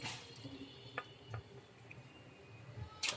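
Water drains and drips from sago pearls being washed in a bowl: faint, sparse drips and a soft trickle with a few small splashes, quiet and close, with no voices.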